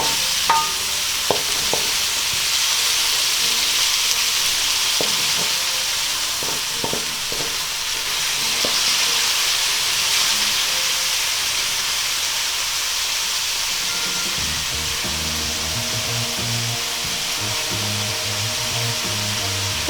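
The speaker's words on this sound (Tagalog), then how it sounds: "Ngayon po ay hahaluin na naman natin to." Beef mechado cooking in a pan, a steady bright sizzle and hiss of frying throughout, with occasional scraping clicks from stirring and heavier stirring noises toward the end.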